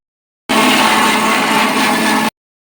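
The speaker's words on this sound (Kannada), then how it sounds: "ಇವಾಗ ಬೆಳ್ಳುಳ್ಳಿ ಸುಟ್ಟಿ ಸಪ್ರೇಟಾಗಿ ಹಾಕಿ ರುಬ್ಕೋತಾ ಇದ್ದೀನಿ" A mixer grinder whirs loudly and steadily for about two seconds, grinding roasted garlic with coriander, cumin and tamarind, starting and stopping abruptly with a dense buzzing roar and no talk.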